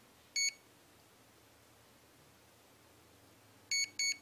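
A HobbyWing Platinum Pro 40A speed controller chirps a single short electronic beep, then after a quiet pause two quick beeps close together, faint but distinct over low background hiss.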